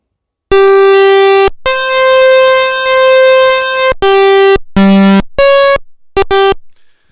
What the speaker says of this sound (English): we have a sine wave and from the SID and a square wave from the YM.